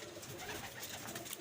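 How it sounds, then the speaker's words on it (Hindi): Pigeons cooing at a rooftop loft in a Pakistani pigeon keeper's collection, which includes golden and Teddy birds. The soft cooing is faint and continuous under broad background noise, with no clear individual calls standing out. "और कबूतर देखें आप दोस्तों"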